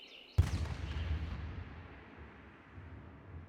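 A single heavy cannon boom strikes, followed by a long low rumble that slowly fades away into quiet.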